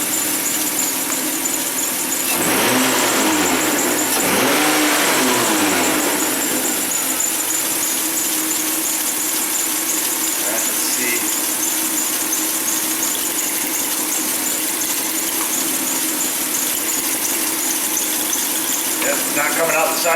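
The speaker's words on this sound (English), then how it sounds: "I can hear the engine misfire a little bit." A running Hyundai Sonata engine with a slight misfire hums steadily up close for about twenty seconds, with a brief louder, squealing stretch early on.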